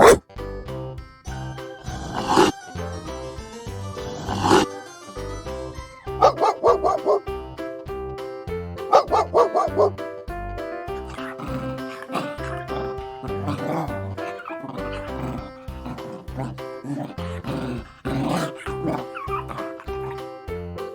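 A domestic dog barks and growls repeatedly, loud and close, with dense bursts of barking, yips and rough growling filling the whole stretch with only brief pauses.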